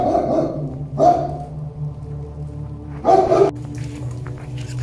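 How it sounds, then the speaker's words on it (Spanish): Dog barking at night on a dark street, three separate rough barks a second or two apart, fairly close and loud, with no talk over them. "Es que estaba el perro ahí"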